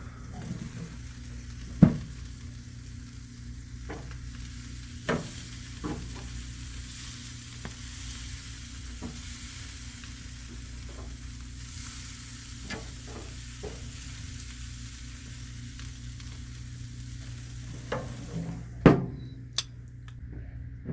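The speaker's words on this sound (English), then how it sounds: "backside of that pork loin might be seared" A pork loin sears in a hot pan with a steady, quiet sizzle, broken by a few sharp knocks and clatters of utensils against the pan.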